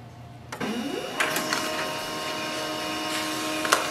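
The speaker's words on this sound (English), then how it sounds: "It will print a page." A Pantum P2509W wireless laser printer starts up and prints a page. The mechanism whirs on abruptly and then runs as a steady, close hum, with a few soft clicks and thumps as the paper feeds through.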